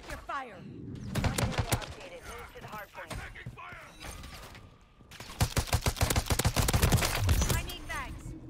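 Rapid automatic gunfire in Call of Duty Modern Warfare 3, sharp repeated bursts in two long stretches separated by quieter moments with voices and mechanical clatter, loud and close.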